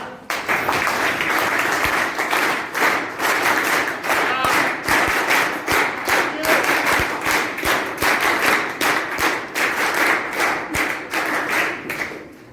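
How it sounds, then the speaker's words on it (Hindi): Workshop group clapping together in a rhythmic 1-2, 1-2-3 pattern; sharp, repeated hand claps in even groupings fill the room, loud and close throughout, with scattered voices faintly mixed in. "आज की वर्कशॉप उसी ताली के साथ कंडक्ट करेंगे। That is 1 2 1 2 3।"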